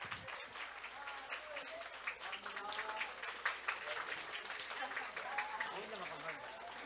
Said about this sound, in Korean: 우리 학생들에게 뜨거운 박수 부탁드립니다.